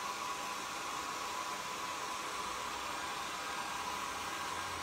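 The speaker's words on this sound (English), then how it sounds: "watch as I hit it with the iron or with the hair dryer" A hair dryer blows steadily to shrink plastic film over framed needlework, a continuous close airy whoosh with a faint motor hum, unbroken and without talk.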